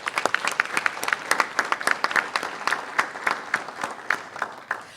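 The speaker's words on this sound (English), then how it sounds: "a great round of applause for our co-presenting sponsors, A Little Bud and Inspired Cannabis" An audience at an indoor leadership event on the cannabis industry gives a round of applause for its sponsors. Dense, steady clapping from many hands continues for several seconds at moderate distance.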